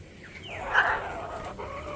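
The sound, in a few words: birds gathering for leftover food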